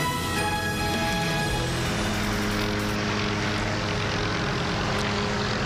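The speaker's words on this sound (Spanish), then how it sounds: "los helicópteros de la policía de la ciudad están sobrevolando" Police helicopters flying over downtown Atlanta, a loud steady rotor and engine drone that fills the whole clip with no pauses and no talking.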